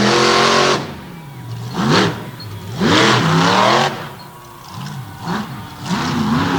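Monster truck engine revving hard as the truck launches big air during an All Star Championship freestyle run, loud surging roars that rise and fall in several bursts with crowd and arena noise beneath.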